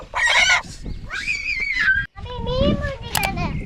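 A live Sri Lankan country chicken squawks and clucks in loud, close, agitated bursts outdoors in a village setting, with voices mixed in.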